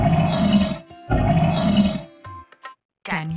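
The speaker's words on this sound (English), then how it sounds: "This is a bear. And this is what it sounds like." A bear roars twice in long, loud, throaty bursts close up, then gives a few shorter grunts after a brief pause.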